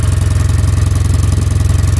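A 2011 Kawasaki W800 motorcycle idles through its standard exhaust with a couple of small holes drilled in it, giving a loud, close, steady low thumping pulse with a slight mechanical clatter.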